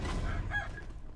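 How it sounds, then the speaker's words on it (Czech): Rooster crowing in the video game Sekiro, a single short crow heard close and fairly loud over a busy game soundscape of low rumbling ambience. "A nějaký kohouti."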